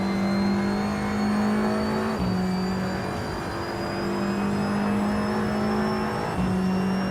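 A 2016 Opel Astra TCR touring race car screams at high revs nearby, holding a steady buzzing engine note that drops briefly at two gear shifts before climbing again.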